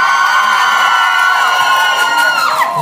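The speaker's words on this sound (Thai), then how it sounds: "ให้พวกเราตบมือและเสียงกรี๊ดดังๆอีกครั้งนะครับ" A large crowd at a fan event cheering, clapping and screaming loudly without pause, shrill voices layered together in a sustained, excited roar.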